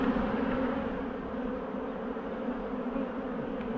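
Honey bees fanning at a beehive make a steady, dense droning hum that stays even and moderately loud the whole time, with no voices.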